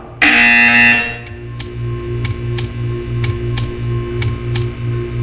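A loud, harsh electronic buzzer from the video game Portal 2 blares for about a second, then sharp repeated clicks tick over a low droning hum.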